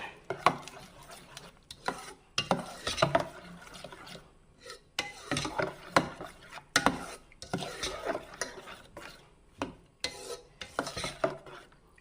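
Spoon stirring tender coconut ice cream mixture with chopped tender coconut pieces in a bowl, repeated close scraping and clinking strokes in uneven bursts with short pauses between, no voices.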